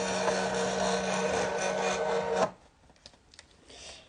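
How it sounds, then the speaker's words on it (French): A Silhouette cutting machine runs steadily for about two and a half seconds, a dense continuous whir with a faint tonal hum, then stops abruptly, leaving quiet scattered clicks and handling sounds. "La machine en action."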